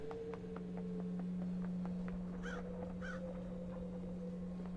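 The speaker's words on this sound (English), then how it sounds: "I like the crows." Crows cawing in the video game Paradise Killer, a few short caws around the middle over a steady low electrical hum and soft ambient drone, with no voices.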